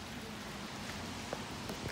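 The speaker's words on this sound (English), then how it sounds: "it's raining. A lot of rain." Heavy rain falling steadily outdoors in a Swedish town, a continuous broadband hiss with scattered louder drop impacts, fairly loud and without talk.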